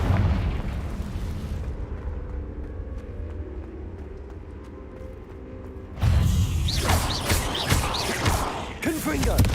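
Confringo blasting spell in Hogwarts Legacy, a rumbling explosive roar followed by a sharp, louder burst of crackling blasts, close and dominant.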